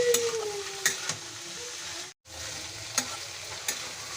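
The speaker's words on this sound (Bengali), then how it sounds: "দিয়ে দিচ্ছি টমেটো কুচি, নেড়ে নেব।" Chopped tomatoes stirred into chickpeas frying in a pan for a chola snack, a continuous close sizzle broken by several spatula scrapes and taps, with one brief drop in the sound midway and no talking.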